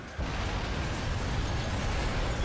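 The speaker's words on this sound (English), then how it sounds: "Cool guys don't look at explosions." Explosion in the video game Vanquish, a loud, dense, sustained roar that starts abruptly and fills the whole clip at a steady level.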